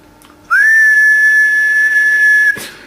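A single sustained whistled tone into a radio microphone, loud and close, held steady for about two seconds after a short rising start.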